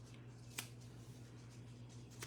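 Scissors snip through a paper card at a card-making table, two short, crisp cuts about two seconds apart over a steady low room hum.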